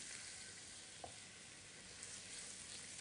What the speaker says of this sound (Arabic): ببتدي أضيف الخل، وخلوا بالكم ساعات بيطلع دخان كتير